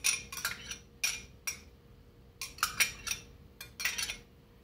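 Spoon or utensil clinking against a pot while lentil soup with cilantro simmers, giving a series of sharp, irregular metallic taps at close range with quiet gaps between them and no talking.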